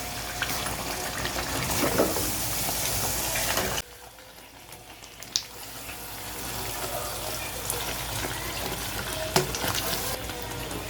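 Chicken curry with fresh coriander stirred in a pan over heat: a steady sizzle with scraping, a brief quieter pause partway through, then the mixing and frying resumes close by with occasional clinks.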